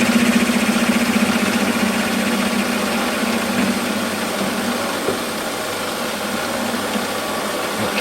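A Warco metal lathe takes a light cleanup cut on a shop-made quick change tool post part, a steady motor hum and faint cutting whirr running evenly throughout with no talk.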